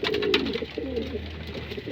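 Racing pigeons give soft, low cooing calls close by, a short run of murmuring coos with faint background hum and no talking.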